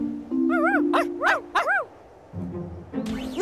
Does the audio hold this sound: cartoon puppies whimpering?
yes